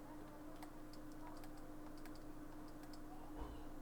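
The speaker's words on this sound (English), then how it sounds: "Oh, some people are typing." Several people typing on computer keyboards, a faint, scattered patter of key clicks continuing throughout, somewhat distant.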